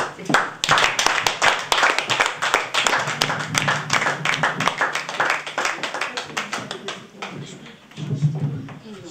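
Audience clapping in a performance venue right after a piece ends, a dense burst of handclaps that gradually thins and fades, with a voice speaking briefly near the end.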